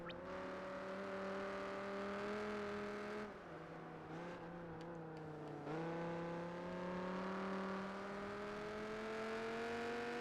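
A race car engine in Project Gotham Racing 4 holds a sustained rising whine, dips briefly as if shifting or lifting off, then climbs again steadily, loud and continuous with no talk.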